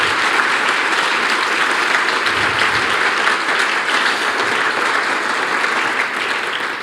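Audience applause at an awards gala, a dense and steady wash of many hands clapping that stays loud throughout and tapers slightly at the end.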